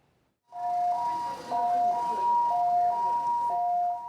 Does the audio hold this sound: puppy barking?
no